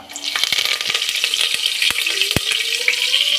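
Whole spices and curry leaves crackle and sizzle in hot oil, a dense steady frying hiss with sharp pops and spits scattered throughout, close and loud, no voices.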